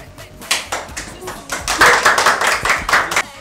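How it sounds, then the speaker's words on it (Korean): A group of young male K-pop idols claps in unison on a TV music show stage, bright sharp claps in a quick repeated rhythm that grows denser and louder, mixed with voices. "저희 박수 노래와 간단한 포인트 안무 보여드리겠습니다"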